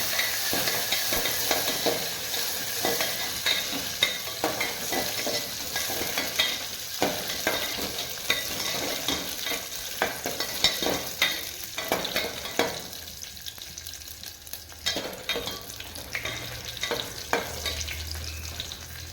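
Raisins and cashews frying in a tempering for rava kesari, a steady close sizzle with crackling pops and occasional stirring scrapes throughout.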